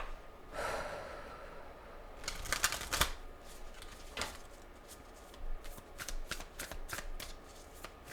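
Animal spirit oracle cards are shuffled close by, with soft riffling and a run of quick, crisp card slaps in a steady rhythm, plus a breath or two in a quiet room.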